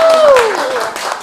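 Brief burst of studio audience applause closing an Indonesian talk show, loud and dense, with a sliding whistle-like tone sweeping downward across it before fading slightly.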